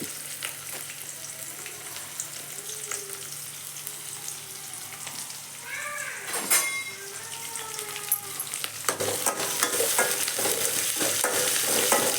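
Slit green chillies spluttering and sizzling in hot oil in a kadai for tomato thokku, a steady crackle with sharp pops that grows louder and busier toward the end.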